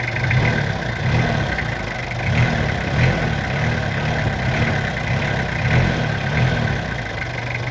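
A car engine runs close and loud with a lumpy, pulsing idle that swells slightly in short surges as the accelerator is pressed.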